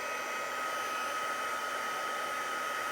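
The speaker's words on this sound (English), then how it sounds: "And I have the heat tool set on the high setting, so it's very hot." A craft heat tool set on high blows hot air for embossing, giving a constant, close, whooshing blower hiss with a faint whine, steady and alone without speech.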